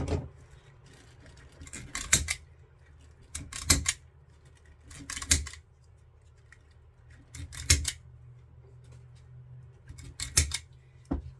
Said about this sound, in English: This zip tie gun is awesome.